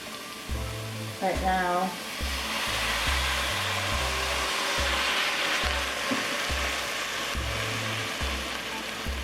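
A pot of Filipino pork blood stew sizzles and fries loudly and steadily as vinegar goes in, with a steady low rhythmic pulsing underneath and a brief spoken phrase near the start.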